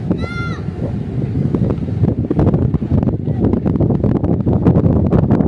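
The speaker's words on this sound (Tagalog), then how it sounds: "Dito medyo malakas kasi yung hangin" Strong, gusty wind buffets the microphone with continuous loud rumbling and roaring, heavy and close throughout, at the Manila Bay reclamation area.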